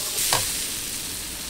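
Garlic and chili stir-fried in oil in a wok over medium heat for a holy basil stir-fry at a Pattaya street food stall, giving a steady close sizzle with one brief scrape of the utensil early on.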